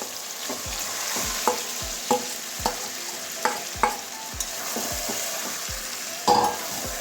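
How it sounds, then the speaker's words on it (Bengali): Marinated chicken sizzles in a hot pan with a steady frying hiss while a spatula strikes and scrapes the pan in regular thumping strokes about every second, close by and unaccompanied. "এবারে ম্যারিনেট করে রাখা মাংসটা দিয়ে দিচ্ছি, চিকেনটা।"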